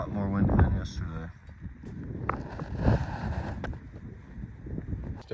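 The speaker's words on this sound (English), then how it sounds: "A lot more windy than yesterday." Strong wind blowing outdoors at sunset on a chilly evening, gusting in a broad rushing roar that buffets the microphone with uneven surges and low rumbles throughout.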